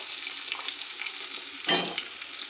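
Carrots and beans for a mixed vegetable dish fry in a pan with a steady, close sizzle, broken once by a short louder burst of stirring.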